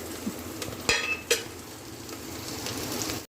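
Chopped ridge gourd and lentils going into a hot pan, with a couple of sharp clinks followed by a steady sizzle of frying, close and moderate in level.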